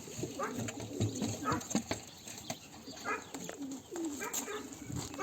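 Pigeons coo softly nearby amid light rustling and fluttering, while someone talks over them and a dog barks faintly.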